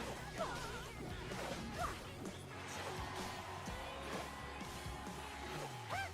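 Demolisher explosion in the mobile game Clash Royale during a tournament match, a crashing blast buried in dense, constant battle noise with smashing hits throughout.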